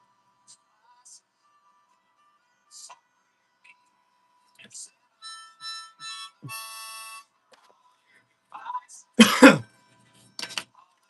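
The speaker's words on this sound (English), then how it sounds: "I'm coughing on it as well." A few scattered coughs and throat clearing, quiet at first, then one louder harsh cough near the end, with faint clicks and murmurs between, amid dusty storage and estate finds.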